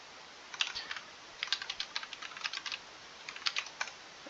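Light, fast clicking of keys on a computer keyboard comes in uneven bursts with short pauses, soft and close against a faint background hiss.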